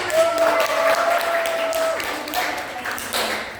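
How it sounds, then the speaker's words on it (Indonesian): A classroom of students clapping together during a lesson, a steady patter of hand claps lasting a few seconds at moderate loudness, with a faint tone and some voices mixed in. "Tepuk tangan dulu ke teman-teman."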